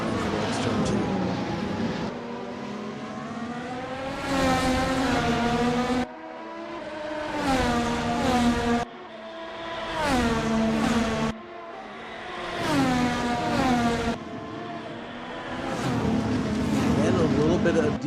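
Formula-style racing cars, including Red Bull and McLaren, scream past on the Hungaroring circuit, their engines rising and falling in pitch through repeated gear changes and passes, loud and continuous across the whole stretch.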